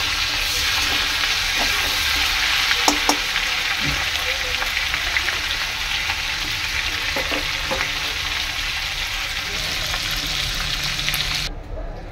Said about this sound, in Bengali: অন্য 2 পিস ছিল, সেটাও দিয়ে দিলাম, এটাও ভাজা করে নেবো।